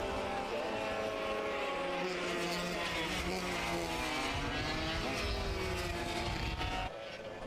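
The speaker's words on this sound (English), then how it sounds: "Wonderful sounds of this next group of karts out on circuit now" Racing karts lap a circuit at Shennington during a festival of speed, engines buzzing steadily and loudly throughout with shifting whine as they pass, the noise continuous and without talk before it drops slightly at the end.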